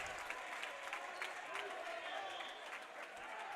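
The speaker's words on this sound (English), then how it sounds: "the Needham crowd goes wild for that spike from Owen Fanning" A home crowd at a Needham boys' volleyball tournament final roars and applauds after a spike, a sustained wash of cheering and clapping with voices mixed through it.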